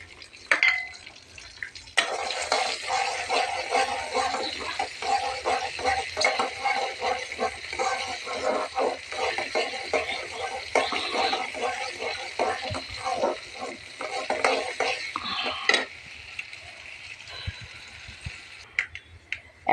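Garlic, dried chilies and five-spice seeds hit hot oil with a loud, continuous sizzle and sputtering crackle, joined by clattering stirring in the pan before the hiss eases.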